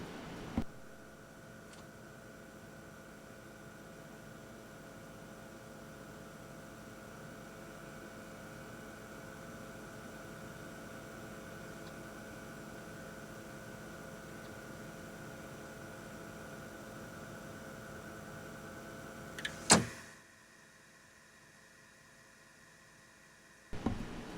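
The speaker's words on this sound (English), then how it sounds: "It's just like white noise." A steady white-noise-like drone from a track, a long, even hiss with faint sustained tones underneath, cutting off abruptly near the end before a brief click.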